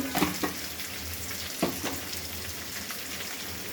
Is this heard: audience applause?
no